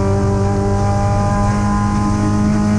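A loud, close Triumph TR7 with a Sprint engine running hard at high revs during a race at Sandown, a steady buzzing drone held throughout without letting up.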